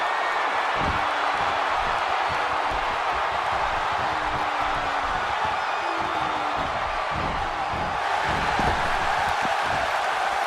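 A large wrestling arena crowd in a video game roars and cheers continuously, with scattered whoops and occasional thuds and slams cutting through the steady wall of noise.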